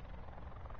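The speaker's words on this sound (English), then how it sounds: "There's a helicopter coming." Helicopter approaching in Call of Duty Blackout, a steady low rotor and engine drone filling the whole moment at a fairly quiet, even level with no speech.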